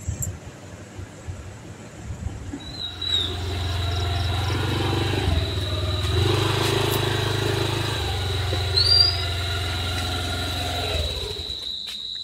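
A scooter engine starts up after a few seconds and runs steadily with a low, even hum at close range, while a thin, high, insect-like tone sounds over it.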